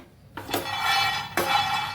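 Peanut kernels are poured into a nonstick pan on a gas stove in two close, rattling bursts, each a clattering patter of nuts hitting the pan and then settling, with no talking.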